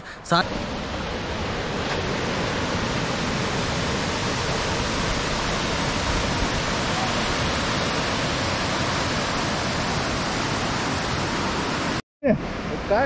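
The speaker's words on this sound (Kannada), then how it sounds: "ಈಗ ಬುರುಡೆ ಜಲಪಾತಕ್ಕೆ ಬಂದೇವಿ" A steady, loud roar of rushing water from Burude Falls near Siddapura fills the scene without pause, broad and unbroken, until a brief cut near the end.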